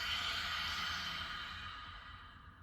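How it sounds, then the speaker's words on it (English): A long, breathy exhale out through the mouth in a guided breathing exercise, a soft airy rush that fades gradually over a few seconds, close and alone with no talking. "We'll exhale out through the mouth"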